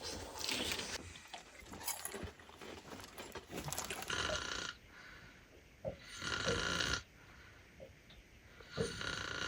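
Faint, rough snoring from a man repeats in slow breaths under steady background noise on a moose hunt in Alaska, somewhat distant and muffled.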